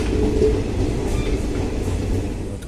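A nearly empty train carriage near the end of the line rolling on its rails, a loud, steady low rumble and rattle, close and continuous, with no talking.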